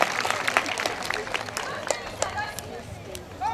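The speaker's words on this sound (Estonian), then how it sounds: "Teeme suure aplausi" Children's group applause at a kindergarten party, a dense patter of many small hands clapping with crowd noise and chatter underneath, steady throughout.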